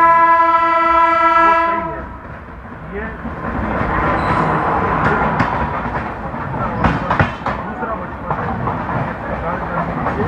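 Jodhpur–Indore 14801 express train crossing another train at speed, a long loud horn blast at the start giving way to rushing wheel and carriage rumble with rhythmic clatter, heard from on board.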